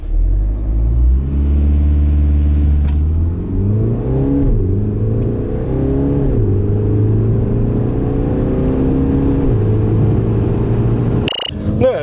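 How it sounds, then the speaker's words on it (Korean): A Mini Cooper SD Countryman ALL4 diesel accelerates hard, its loud engine note climbing through several gear changes with brief dips between rising sweeps, staying close and continuous. "그렇다면 과연 미니 컨트리맨의 가속 성능은 어떻게 나왔을까요?"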